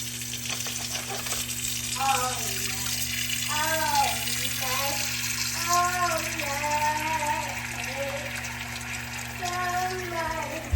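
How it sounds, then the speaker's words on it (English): Water runs steadily from a tap into a pot, a continuous close rushing hiss with a soft hum in the background. "So add some water to the pot."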